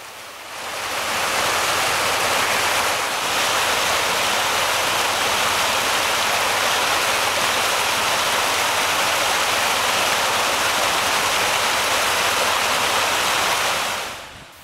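A dense, continuous roar of rushing floodwater, loud and steady throughout, from a swollen creek running fast over its banks during the May 2010 Nashville, Tennessee flooding, with rain falling.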